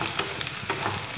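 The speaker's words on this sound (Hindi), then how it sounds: "श्रिम्प्स का स्मेल जब तक ना चला जाए तब तक अच्छी तरह से इसे फ्राई करते रहे।" Dried shrimps frying in a pan for an egg and dried shrimp curry, a steady close hiss of sizzling oil with a few brief scraping stirs.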